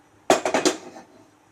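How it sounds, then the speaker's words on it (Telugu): A metal pan is set down on a kitchen stove, giving a sharp clank followed by two or three quick rattling knocks as it settles, close and fairly loud with no talk. "ప్యాన్ పెట్టుకుందాం."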